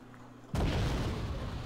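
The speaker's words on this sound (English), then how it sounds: "autocannon's wrecking the M41" Autocannon fire and explosions in a tank video game, with an M41 under fire: one sudden loud boom breaks in after a quiet hum and rolls on as a dense, rumbling blast.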